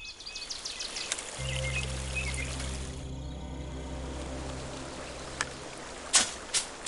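Ambient river and waterfall in the adventure game Lost Lands 5: a steady low rushing roar and broadband hiss, with faint insect-like chirps and a few sharp clicks near the end.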